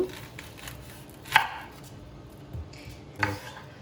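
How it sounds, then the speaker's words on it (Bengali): A knife chopping onion in a kitchen, three sharp separate cuts against a board spaced over a few seconds, close and fairly quiet, no voices. "এর মধ্যে আমরা পেঁয়াজটাকে কেটে নেব"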